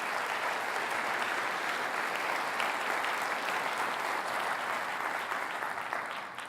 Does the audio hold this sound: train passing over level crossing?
no